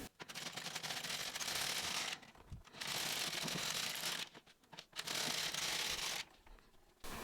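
LK150 knitting machine knitting three rows of tuck stitch: three bursts of rattling, clicking carriage travel, each about two seconds long and separated by short pauses.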